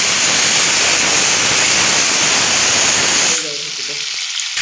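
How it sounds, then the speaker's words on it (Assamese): Fish frying hard in a pan gives a loud, steady, close sizzle for about three seconds, then drops abruptly to a quieter hiss with a faint voice. "টানকৈ ভাজি ল'ম।"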